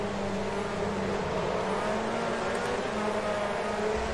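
Race car engine in the rFactor 2 racing sim, a steady, fairly deep drone held close throughout as the car runs behind a pack, with no talk over it.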